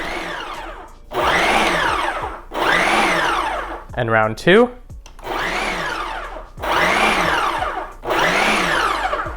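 A Ninja PrecisionPro food processor chopping salsa ingredients whirs in several short bursts, loud and close, peaking around 90 decibels, with pauses between pulses and a brief spoken remark in the middle.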